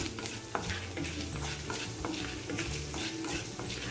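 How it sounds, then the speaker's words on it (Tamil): Chana dal and urad dal fry with mustard seeds in hot oil, an Indian tempering for peas rice. A steady close sizzle runs throughout, with a spoon scraping and stirring in a repeating rhythm. "இப்போ கடலைப்பருப்பு, உளுத்தம்பருப்பு போட்டுடலாம். போட்டுட்டு நல்லா சிவப்பாக வறுத்து எடுக்கலாம்."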